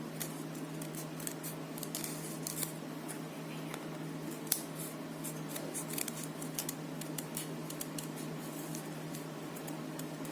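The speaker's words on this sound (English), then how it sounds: "You have your fan fold and just start cutting it." Scissors cutting through fan-folded paper for a ghost garland, a run of small crisp snips close by over a steady low background hum, with no talking.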